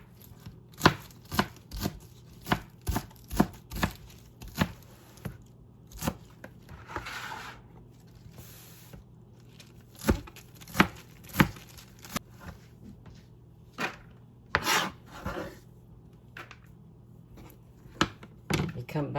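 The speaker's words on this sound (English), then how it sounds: "I'll come back to you after I'm done chopping." A knife chops spinach on a cutting board with rapid, fairly regular sharp taps in runs, close up, with short pauses and a faint scraping gather between runs.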